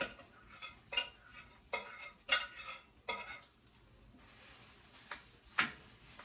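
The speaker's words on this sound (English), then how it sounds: "And then it just says to stir and coat with the butter." A spoon scrapes and clinks in a pan as rice is stirred to coat it in butter for kedgeree, giving irregular bright scraping strokes about every second over a faint low background.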